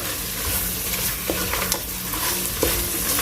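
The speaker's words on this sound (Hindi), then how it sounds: "अब इसके अंदर हम ये तकरीबन 2 टेबलस्पून हरा धनिया शामिल करेंगे और इसको चम्मच हिलाकर" A spoon stirs peshawari namkeen gosht, mutton mixed with chopped fresh coriander, in a hot pan; steady sizzling and frying runs throughout, punctuated by several distinct metallic scrapes and knocks of the spoon.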